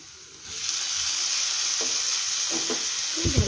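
Sliced onions fry in a pan, the sizzle starting softly and then swelling into a steady, close hiss, with a few soft knocks of stirring near the end.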